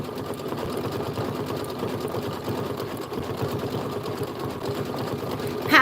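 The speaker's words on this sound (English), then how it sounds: "When it sews over the whole boot and the vinyl." Kimberbell bunny boot embroidery design being stitched onto vinyl by an embroidery sewing machine: a steady, fast, close mechanical whirr and rapid needle chatter that runs without a break, with no voices.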